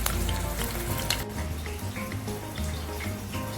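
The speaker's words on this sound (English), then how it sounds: "let's heat up some oil and add the chicken fat just until it's about to shrink" Chicken fat fries in hot oil, giving a steady, close sizzle with a crackling, bubbling texture that continues evenly throughout without any talk.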